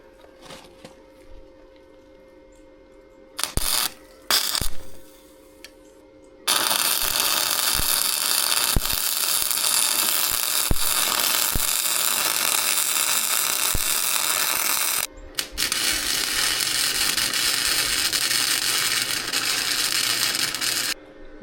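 Steel support pieces being tack welded onto a DIY tube bumper for a Lexus GX470: two long, loud stretches of steady crackling, buzzing arc hiss, separated by a brief pause and preceded by a few short clanks.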